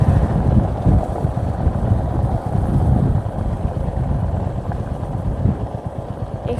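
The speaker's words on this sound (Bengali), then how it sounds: "এখানে অনেকটা বাতাস হচ্ছে" Strong wind gusts across the open sandy bank of the Padma river, buffeting the microphone with a loud, rumbling low roar that swells and eases without pause; no voices.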